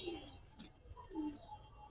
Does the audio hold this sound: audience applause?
no